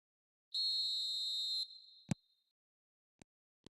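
A referee's whistle in a football video game blows one sustained shrill blast of about a second, followed by a sharp thud and two faint clicks.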